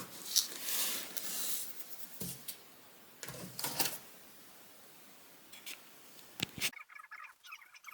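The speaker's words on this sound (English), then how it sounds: "I need to wind that onto the bobbin before I carry on sewing" Sewing machine winding thread onto a bobbin: a soft mechanical whir in short uneven bursts with quiet gaps, close by and fairly faint.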